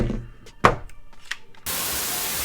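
A lever at the bottom of a CAA MCK conversion kit for a Glock 21 pistol is popped loose: a sharp close click, then a softer one, followed by a steady hiss of noise.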